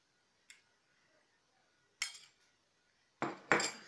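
Utensil clinks and scraping against a bowl while eggs and ingredients are mixed for Moroccan chebakia; a faint tap, then a few sharper clatters close by, with quiet gaps between.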